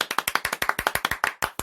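A single pair of hands claps at a steady, brisk rhythm, about a dozen crisp, close claps on a talk show, with a short pause before the final two.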